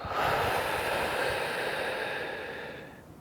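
Slow, deep breath during a pelvic floor exercise, a single long airy exhale heard close and fairly loud, fading out near the end.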